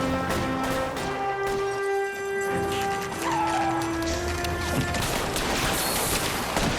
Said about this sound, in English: Yeah, there's the gunshots already.